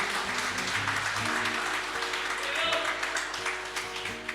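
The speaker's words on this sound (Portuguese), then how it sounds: "Se é para aplaudir, aplauda o Senhor Jesus" Congregation applauding during a church sermon, a steady broad wash of clapping that fills the room for several seconds, with a faint voice underneath.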